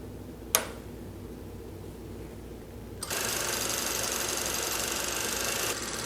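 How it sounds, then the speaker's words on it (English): Servo motor on a Consew 206RB walking foot sewing machine winding a bobbin, a quiet hum that turns into a steady, brighter whir halfway through and stops shortly before the end, with a single click near the start. "this is the key vantage point when you're winding a bobbin"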